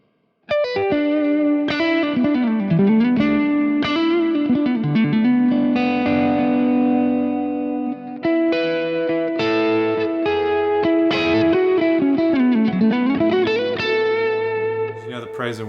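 Electric guitar played through a Kemper Profiler rings out clearly with reverb and delay, shimmering sustained notes and chords swelling and trailing off, loud and close with no talking.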